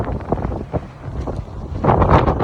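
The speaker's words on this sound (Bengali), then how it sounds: "এই দেখো হাওয়া হয়েছে" Strong stormy wind gusts and buffets the microphone near water, roaring in uneven surges that grow louder toward the end.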